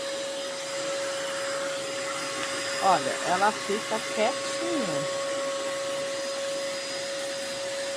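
Vacuum cleaner running over a small dog at home, a steady loud motor whine throughout with someone talking over it in the middle.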